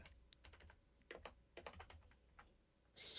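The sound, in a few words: typing on a computer keyboard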